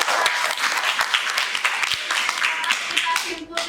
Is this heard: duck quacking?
no